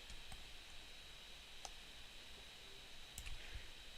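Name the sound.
repeated clicking on a software control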